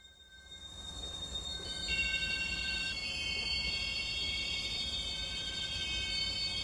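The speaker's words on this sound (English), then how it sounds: "that train should be pushing over the hump by now" A freight train rolls over a hump yard in Run 8 Train Simulator, with a low steady rumble of cars and long sustained metallic wheel squeals that layer and shift pitch as the train moves.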